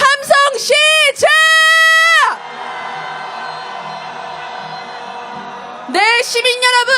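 Protesters at a candlelight march calling for a president's impeachment shout and cheer in a loud, sustained roar, with a crowd swell rising between bursts of amplified chanting near the microphone.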